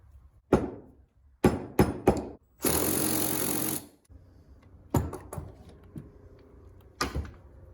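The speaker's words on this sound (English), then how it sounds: "You gotta get these retaining clips out." Metal clips being pried and tapped off a Honda CT90 motorcycle during repair: a series of sharp clanks and knocks at close range, with a longer scraping rasp in the middle and a few lighter taps afterward, no talking.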